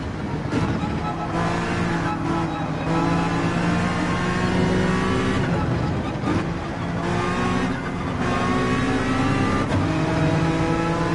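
Race cars, including a Mustang, drive in Gran Turismo 7, their engines droning loudly and continuously. Overlapping pitched whines rise and fall as they accelerate and shift, with short dips between bursts of revving.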